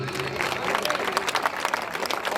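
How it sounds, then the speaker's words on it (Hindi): Devotees clap together at a temple gathering for the goddess Mansa Devi, a dense, even burst of applause filling the space for a couple of seconds. "एक बार ताली बजनी चाहिए सब।"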